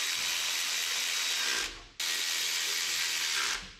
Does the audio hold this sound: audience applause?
no